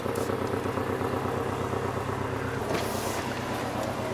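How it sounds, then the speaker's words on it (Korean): A Porsche 718 Cayman S sports car engine idles steadily outdoors with a low, constant rumble and a faint metallic ticking riding on top, close by and without talk. "엔진에서 나는 또 이상한 금속성 소리 짝짝짝짝짝작 나잖아요"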